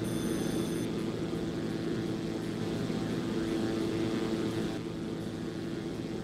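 A propeller aircraft in the X-Plane 11 flight simulator makes a low pass, giving a loud, steady engine drone throughout with no one speaking.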